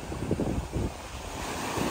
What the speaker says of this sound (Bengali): এই ঢেউগুলো যখন এই দিকটা হইতেছে, মাঝে মধ্যে ঢেউগুলো ক্রস করে যাচ্ছে